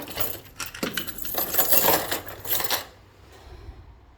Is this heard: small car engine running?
no